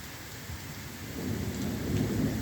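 Steady rain with a deep thunder rumble that swells and grows louder in the second half, no voices.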